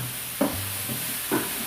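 Paneer cubes are stirred into sizzling masala in a pan for palak paneer, giving a steady frying hiss with two distinct scraping strokes of the spoon.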